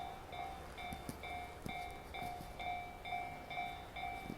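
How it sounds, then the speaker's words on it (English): A freight train rolls past near JR Yamazaki Station in Japan, a steady rumble with regular clicks of wheels over rail joints and a repeating high tonal ring, moderately close and continuous with no voices. "here's a freight train coming through"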